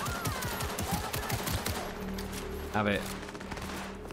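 Gunfire in the video game Cyberpunk 2077: rapid bursts of shots in quick repeated cracks, under game music and a brief voice in the background.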